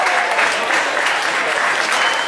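Wedding crowd applauding and cheering the bride and her father, a dense, steady wash of clapping from many hands filling the room without a break.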